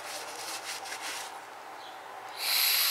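Air blown through the PCV valve of a 2008 Toyota RAV4 2.4L 2AZ-FE engine makes a close, breathy hiss. The hiss ends in a sharper, brighter burst of airflow.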